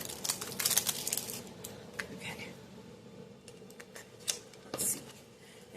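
Plastic wrap crinkles and snips as scissors cut it off an eyeshadow palette package, a burst of crisp rustling and cutting, then a pause and a few more crinkles nearby.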